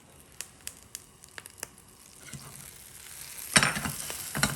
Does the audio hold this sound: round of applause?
no